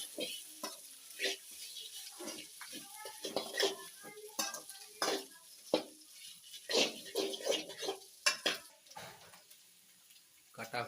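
Potatoes fry in oil with a steady sizzle, broken by the scrape and clink of a spoon stirring them in a metal pan. The sounds are close and fairly faint, and no one speaks.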